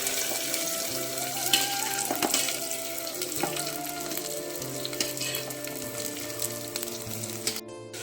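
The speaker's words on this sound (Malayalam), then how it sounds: "ചട്ടി ചൂടായി എണ്ണ ഒഴിച്ചു കൊടുത്തിട്ടുണ്ട്. എണ്ണയൊന്ന് ചൂടായി വന്നിട്ടുണ്ട്. നമുക്ക് വെണ്ടയ്ക്ക ഉള്ളി ഇട്ട് കൊടുക്കാം" Okra and onions fry in hot oil in a pan as a continuous crackling sizzle with a few stirring knocks, steady and close throughout.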